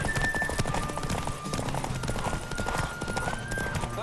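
Hooves of a horse galloping in the Witcher 3 video game, a steady rapid clip-clop with a whinny, loud and continuous under game music.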